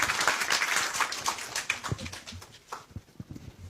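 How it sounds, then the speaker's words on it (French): An audience at a Senegalese service handover ceremony claps after a closing speech. The applause is loud at first and thins into scattered, irregular claps that fade toward the end. "Des applaudissements nourris pour ce bilan élogieux"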